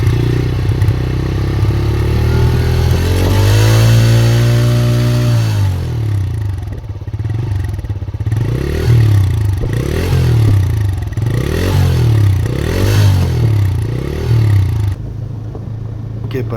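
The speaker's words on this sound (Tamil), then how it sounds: "நெக்ஸ்ட்டு எக்ஸாஸ்ட் நோட் எப்படி இருக்குதுன்னு பார்ப்போம்" A TVS Raider 125 motorcycle engine revs loudly and close, rising in pitch then blipping repeatedly in quick throttle bursts before settling back toward idle.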